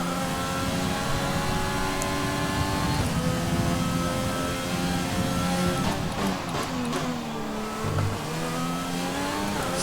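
In the F1 2020 video game, a Formula 1 race car engine screams at high revs with rising and falling pitch through gear changes, continuous and fairly loud.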